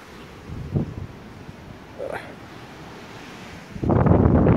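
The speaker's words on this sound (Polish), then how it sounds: "z tej strony jest morze" Sea waves heard from an apartment terrace wash faintly in the distance under steady wind, with a louder gust of surf and wind noise rushing in near the end.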